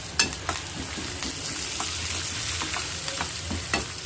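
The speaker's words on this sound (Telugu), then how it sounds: "ఫ్లేమ్ని లో ఫ్లేమ్ పెట్టుకొని వేయించుకోవాలండి వీటిని" Urad dal, coriander seeds, cumin and curry leaves frying in a pan of oil on low flame, a close crackling sizzle with repeated sharp clicks of a spoon stirring throughout.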